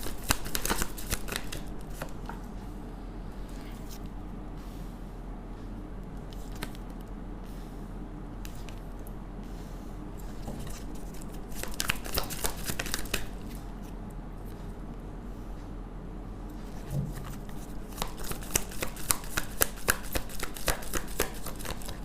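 Tarot cards shuffled during a reading, a long stretch of soft, repeated riffling and slapping of the deck in uneven bursts, close and fairly quiet, with no voices.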